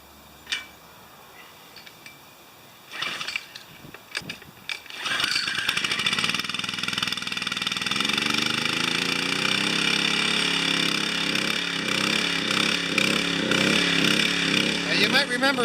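A small pressure washer engine is pulled over on full choke, sputters through a few coughing attempts, then catches and runs loud and rough, surging unevenly in a pulsing rhythm.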